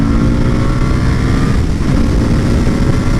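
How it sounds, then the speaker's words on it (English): An Indian FTR 1200 motorcycle ridden hard in sport mode, a loud, continuous engine roar mixed with heavy wind rush, sustained and close throughout without speech. "We're going to open this bike up. We're going to test how sports mode really goes."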